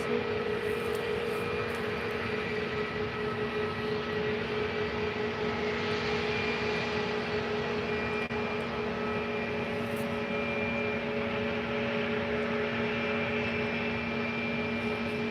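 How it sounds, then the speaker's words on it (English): A TUI Boeing 737 takes off for Brussels at Faro airport, heard from a distance as a faint, steady jet drone with sustained engine tones and no talk. "Here goes the TUI 737 to Brussels."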